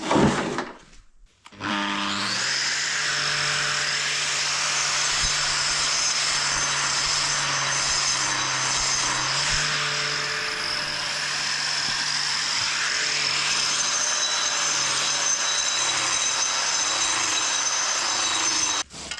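A grinder works over a cured concrete patch in a parking spot, a loud steady high-pitched whine with a sustained hum underneath, starting after a short pause and running continuously close by.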